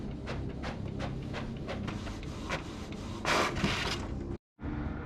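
A Cricut Joy Xtra printer runs at close range, loading card stock with a steady mechanical hum and rhythmic repeated clicks and strokes, then a louder whirring burst, a short pause and a resumed hum, with no speech.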